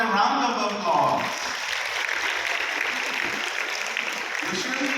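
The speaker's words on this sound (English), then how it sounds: "How about a round of applause?" An audience at a cancer-care talk in the Philippines claps for a hospital presentation, a steady, dense wash of applause that fades slightly after the first second and carries on beneath the room.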